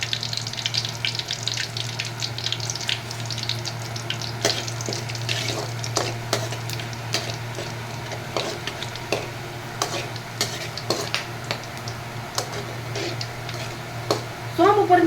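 Cinnamon, bay leaves and cloves frying in hot oil for a chicken masala gravy, giving a steady sizzle with scattered pops and stirring clicks, close and continuous throughout.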